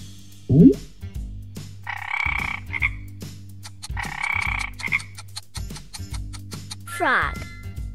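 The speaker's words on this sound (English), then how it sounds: "Frog." Loud, close frog croaks repeating in rough, rasping bursts, with a spoken word and a rising squeaky call mixed in.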